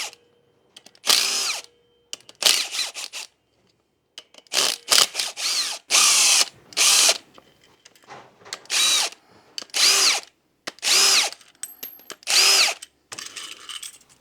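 Cordless power tool running in short repeated bursts of a second or so each, close up, pulling clutch springs off a Yamaha Warrior 350 ATV, with quiet pauses between the bursts.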